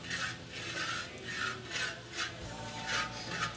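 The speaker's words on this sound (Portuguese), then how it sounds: "raspar o disco de arado" Flour being scraped around a hot plow-disc pan while cooking feijão tropeiro, a steady rhythmic rasping with repeated strokes roughly every half second, close and moderately loud, with no talking.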